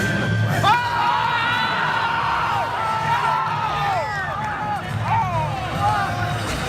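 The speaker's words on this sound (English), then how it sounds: "Do you hear the crowd?" An excited crowd cheers and whoops, with a dense babble of shouting voices that swells and ebbs throughout at moderate loudness.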